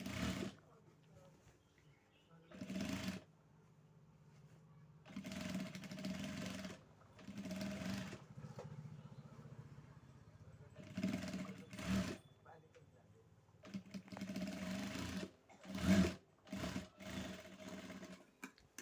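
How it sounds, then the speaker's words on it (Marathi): Sewing machine stitching the sleeve of a dress with piping, in several bursts of steady mechanical whirring separated by pauses, with someone speaking Marathi between runs. "आता परत दुसरी शिलाई अर्धा इंच सोडून"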